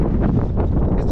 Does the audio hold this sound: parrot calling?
no